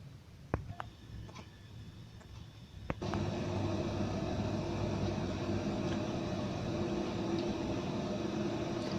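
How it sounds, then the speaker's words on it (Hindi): Water boiling in a pot on the stove while vegetables for a quick mixed pickle are being prepared, a steady bubbling hiss that starts after a few clicks and continues evenly, close by. "पानी उबलने लगा है।"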